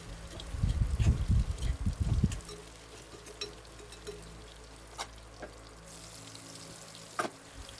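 Salted bitter gourd is stirred in a pan. About two seconds of rough, close rustling and scraping are followed by near quiet, broken only by a few faint clicks and taps.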